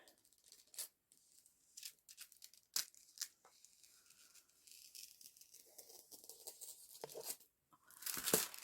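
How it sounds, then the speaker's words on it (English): Plastic being cut off a diamond painting canvas, giving soft crinkling, rattling and tearing sounds with scattered small snips, close and fairly quiet, ending in a louder burst of crinkle. "Oh, then I'll just cut that bit of plastic off."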